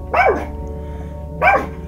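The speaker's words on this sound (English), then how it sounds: "My doggy's barking at things in the window" A pet dog barks twice indoors at something outside the window, two short sharp barks about a second apart, fairly close and clear over a low steady background hum.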